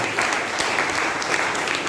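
A church congregation applauds, a dense, steady wash of many hands clapping together at close range for the full length.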